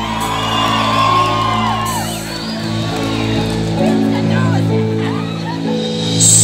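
A live concert crowd at a 2022 show in Malinaltepec whoops and yells over loud, sustained band music, with voices mixed in throughout.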